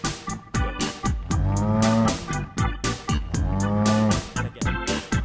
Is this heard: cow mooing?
yes